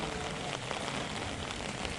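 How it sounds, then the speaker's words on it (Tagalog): Steady rain falls and patters on surfaces close by, a dense even hiss with no pauses and no one speaking. "Ulan oh. Basa ka sa ulan."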